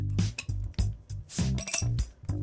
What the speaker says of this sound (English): That is the sound of a Japanese beer made in Italy.